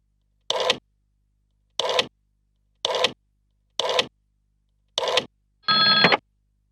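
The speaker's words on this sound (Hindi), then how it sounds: "अब अरुण को फोन करो।" A phone-style ring sounds in five short, evenly spaced bursts, then a final longer tone with a clearer pitch, all against silence.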